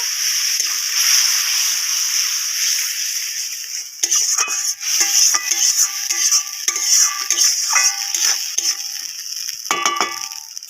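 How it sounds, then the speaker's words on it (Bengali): Spice paste for a malai curry being stirred and fried in oil in a pan with a little water added, a steady sizzling hiss with scraping, clinking stirring strokes growing busier toward the end, close and without talk. "অল্প করে জল দিয়ে দেবো। জল দিয়ে আরেকটু কষিয়ে নেব।"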